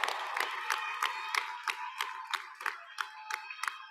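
Clapping rises from the audience at a high school graduation ceremony, fairly faint and a little distant, with distinct individual claps falling into a loose rhythm and crowd noise faintly underneath.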